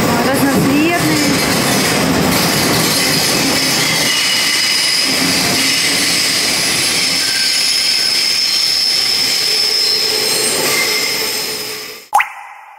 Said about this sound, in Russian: Вот, кстати, классные какие эти поезда.